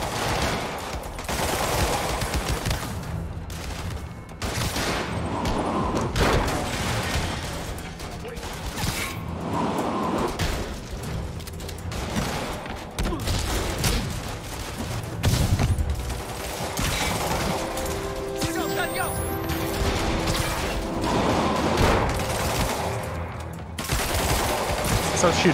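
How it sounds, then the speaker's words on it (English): Rapid gunfire in Spider-Man Remastered cracks repeatedly at the player amid mechanical clatter and action effects, a dense, loud barrage of shots with occasional whooshes over game ambience. "Stop shooting at me."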